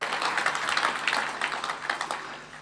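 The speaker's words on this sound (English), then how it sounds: "Much smaller clap for that one." A smaller audience claps politely through a played political speech, a steady, moderately loud patter of hands with no voice over it.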